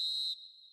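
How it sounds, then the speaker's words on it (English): A referee blows the final whistle in an eFootball match, one short, sharp, shrill blast that drops to a softer tail, alone with no talk. "Referee looks at his watch and blows his whistle."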